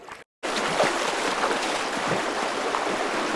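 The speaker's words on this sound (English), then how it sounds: "hearing the roaring sounds of the creek" A creek on a Tujunga, California trail rushes in a steady, full roar of flowing water close by, after a brief silent cut at the start, with no talking.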